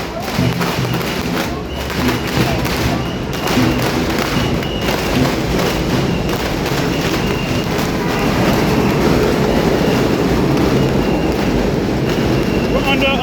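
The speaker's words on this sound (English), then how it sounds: "We're under a major train station." A train rumbles overhead at a major train station, a loud continuous roar with rhythmic clattering and thumps that lasts throughout while people talk beneath it.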